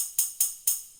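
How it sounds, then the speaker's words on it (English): A tambourine one-shot sample in FL Studio is triggered three times in quick succession, each a bright jingly shimmer with a sharp attack and short decay, crisp and alone. "I have found a tambourine that I want to use."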